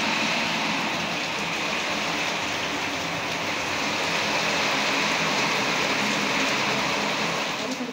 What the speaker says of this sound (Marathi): भरपूर पाऊस आला अचानक,